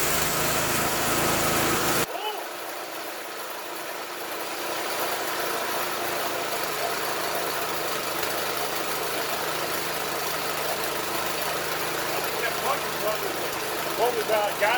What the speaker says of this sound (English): No way that motor just turned over.